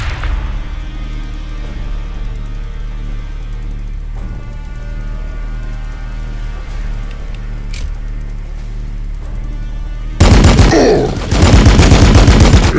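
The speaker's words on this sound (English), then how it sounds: "Frag bombardment commencing." Frag bombardment in a Warhammer 40K battle against an Ork horde: a steady rumbling barrage runs underneath, then heavy loud explosions burst in near the end.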